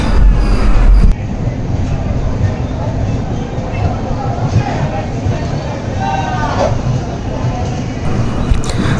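A train at platform 3 of a station rumbles into motion with a steady, loud, broadband roar and faint wheel squeals, while people chatter nearby.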